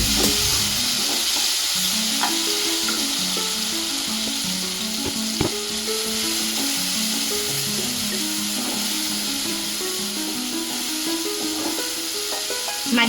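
Tomatoes with turmeric cooking in a pan, a steady soft sizzle with occasional scraping stirs, close and continuous, with background music playing throughout.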